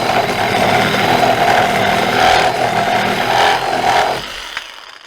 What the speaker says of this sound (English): we're going to do 2 or 3 cuts through it as well. Obviously quite a bit faster because this is like pine.